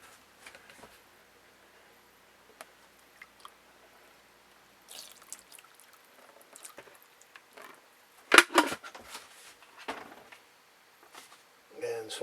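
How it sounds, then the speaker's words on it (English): Calcium hydroxide solution poured onto a Four Color 1203 Pinocchio comic during conservation work: soft scattered drips and wet squishes, with a louder burst of splashing partway through and faint handling noises around it. "Now we're going to pour a little bit of calcium hydroxide on it."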